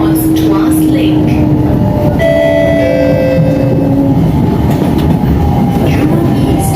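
An MRT train at Jurong East station in Singapore, a loud continuous rumble of wheels and motors with brief squealing tones, filling the platform throughout while talk is heard under it.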